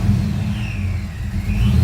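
Steady low rumble of a Foxbody Ford Mustang engine running just after being fired up, close and loud, with a faint whine drifting above the engine tone.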